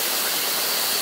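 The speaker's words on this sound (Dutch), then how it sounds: "Een kleine waterval." Small waterfall on a hike in Hong Kong: a steady, close rushing of falling water, broad and unbroken for the whole moment, with no voices.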